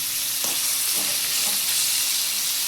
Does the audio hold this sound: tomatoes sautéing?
yes